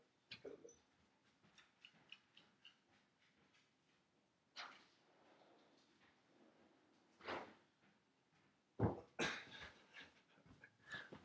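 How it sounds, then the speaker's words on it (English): An agitated indoor dog, whimpering and yelping in short bursts with scuffling and thumps between them, separate outbursts coming closer and louder toward the end. "My dog is going crazy."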